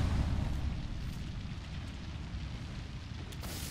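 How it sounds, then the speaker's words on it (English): In the video game Apex Legends, a thermite grenade burns with a loud, rumbling roar and dense crackle. The sound is strongest at the very start and then settles into a steady burn. "Thermite grenade set."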